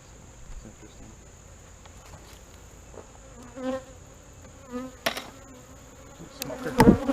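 Honeybees buzz steadily at close range as a hive is opened for inspection and smoked, a dense insect drone with brief louder swells, a few sharp knocks and handling clatters near the end.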